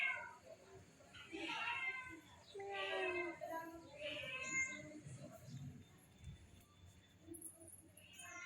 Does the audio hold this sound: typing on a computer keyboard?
no